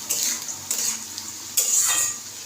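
Flattened rice (chira) being fried and stirred in a pan for pulao, giving bright crisp sizzling bursts that come in waves with each stir, close and fairly loud, without talk.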